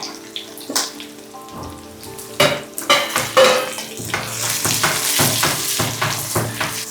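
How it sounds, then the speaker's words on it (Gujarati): Diced potatoes fry in a pan over a low gas flame for a pointed gourd and moong dal curry, with loud close scraping stirs and clattering strokes over a continuous sizzle. "ગેસની ફ્લેમ ધીમી રાખી છે અને બટાકાને સારી રીતે ચલાવી લઈએ."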